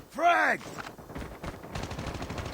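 Gunfire in the mobile game Call of Duty Mobile, a sharp zipping burst followed by a rapid string of faint shots and clatter, low in level.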